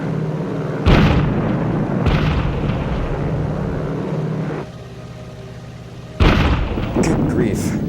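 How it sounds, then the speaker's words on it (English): Bombs bursting during an air raid on an airbase with A6M5 Zero fighters, loud heavy blasts landing in a rough series with a sustained roar between them. "they dropped their bombs, as if scattering beans"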